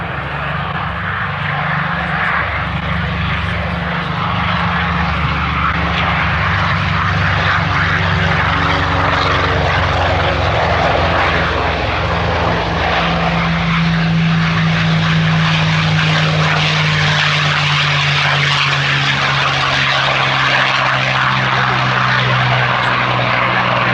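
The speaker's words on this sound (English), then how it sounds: "We now see the P-47 and the P-51 getting airborne." P-47 Thunderbolt and P-51 Mustang propeller warbirds take off together at an air display, a loud, sustained throaty piston-engine roar with a slowly shifting drone that fills the whole stretch.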